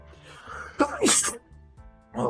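A single sharp sneeze from a person sitting at a desk, close and clear, with a quick inhale before it and quiet room tone around it.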